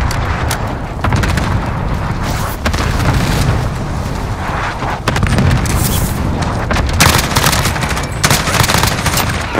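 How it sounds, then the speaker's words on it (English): Cluster strike explosions in Call of Duty: Modern Warfare, a loud, continuous barrage of heavy booms and rumbling blasts rolling on without a break, with sharper cracks punctuating the dense roar. "Allied cluster strike arriving."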